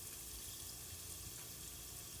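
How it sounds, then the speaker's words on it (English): A faint, steady sizzle of peanuts in a hot pan, a soft continuous hiss with no voices. "We hear the sizzling."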